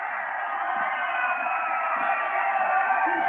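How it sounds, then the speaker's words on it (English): A Nepalese crowd at a cricket match roars after a boundary, a dense, sustained wall of cheering and shouting that holds steady and swells slightly toward the end, with no single voice standing out. "And now the volume's turned up from the Nepalese crowd."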